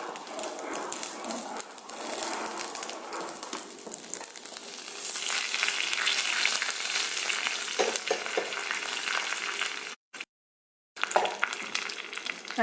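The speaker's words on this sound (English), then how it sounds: "start spluttering, I'm going to add 1 red chili broken and few curry leaves" Mustard seeds splutter while a broken red chili and curry leaves fry in hot oil in a home kitchen, a loud continuous crackling sizzle with a brief silent gap near the end.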